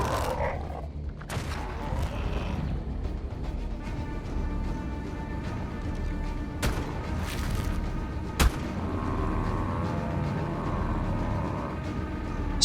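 Gunfire in the video game ARK aimed at a Sarcosuchus: a few sharp, isolated shots with cracking transients over a dense, rumbling game background, no voices.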